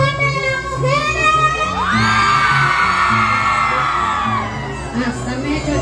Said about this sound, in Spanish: El grito bien fuerte de las mujeres.